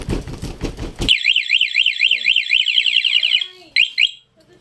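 A loud car and motorcycle remote alarm system wails in a rapid warbling siren pattern, starting abruptly after someone speaks, then cutting off and chirping briefly again.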